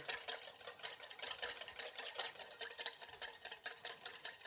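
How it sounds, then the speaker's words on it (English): A whisk beating vinaigrette in a bowl, a rapid, even rhythm of light metallic clicks and swishes that keeps up steadily throughout, close and fairly loud, no talking. "I'm going to just give this one more little whisk together"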